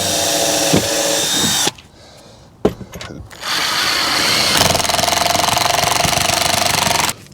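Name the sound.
power drill drilling pilot hole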